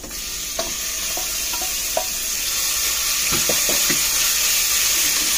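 Chicken for gongura chicken biryani hits a hot frying pan, giving a steady sizzling hiss with scattered clinks and knocks from stirring against the pan.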